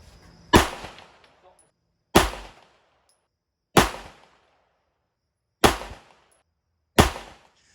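Five sharp, loud pistol shots from a heavy Sig Sauer P320 X5 Legion during accuracy testing, spaced roughly a second and a half apart, each ringing out with a short decaying tail.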